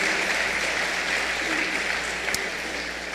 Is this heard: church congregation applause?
yes